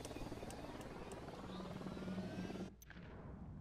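A small helicopter in the video game Ghost Recon Wildlands flies with a constant, quiet rotor drone that cuts out abruptly near the end before resuming faintly.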